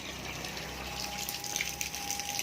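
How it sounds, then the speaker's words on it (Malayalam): A small submersible aquarium pump pushing water, a steady rushing gush with a faint thin hum running underneath, close and continuous. "അപ്പോൾ വെള്ളം അത്യാവശ്യത്തിന് ഫോഴ്സിൽ വരുന്നുണ്ട്."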